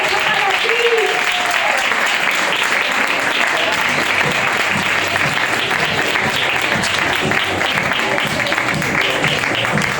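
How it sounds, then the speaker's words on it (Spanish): A crowd bursts into loud, dense applause for a teacher, sustained and even throughout, with faint voices mixed into the clapping. "aplauso para ti!"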